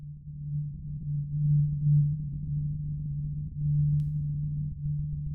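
Grainy lo-fi synthesizer soundbed patch built in Omnisphere with compression for warmth, a steady low droning tone that swells gently and holds continuously, with no voices.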